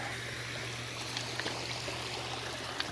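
A small waterfall in a woodland stream: a steady close rush of falling, trickling water with a low hum beneath, continuous and moderately loud with no talking.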